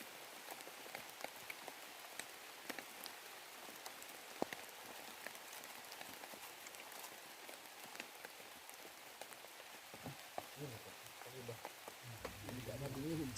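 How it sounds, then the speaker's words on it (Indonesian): Light rain falling outdoors on Gunung Adeng, a mountain in Bali, steady soft patter of scattered drops tapping nearby surfaces, with a brief low rustle and faint murmur toward the end. "ternyata rintik hujan pun turun"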